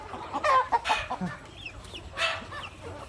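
A few free-range village chickens cluck and squawk in short bursts over a quiet outdoor background.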